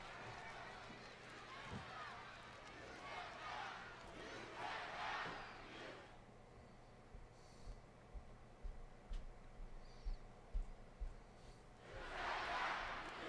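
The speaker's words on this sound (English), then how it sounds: "the crowd here in Indianapolis beginning to taunt Gunther with "you tapped out" chants" Large arena crowd in Indianapolis at a WWE Monday Night Raw event taunting Gunther with rhythmic chants, a loud roar swelling in waves and dipping between bursts, with commentators talking over it.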